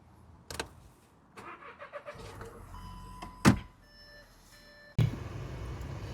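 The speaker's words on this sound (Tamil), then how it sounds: "ஜஸ்ட் யூஸ் பண்ணி கார் ஸ்டார்ட் பண்ணிக்கணும்." A rental car in Ireland started with the key: a few close clicks and a soft chime, then the engine cranks and catches near the end, settling into a steady idle. No one speaks.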